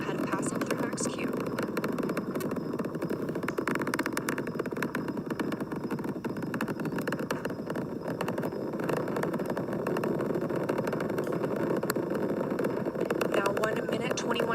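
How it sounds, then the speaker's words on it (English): Steady deep roar of the four SLS core stage engines at maximum thrust during the Artemis I launch, heard as a constant broadband rumble through the whole stretch, with a narrator talking over it. "The 4 core stage engines are back at maximum thrust."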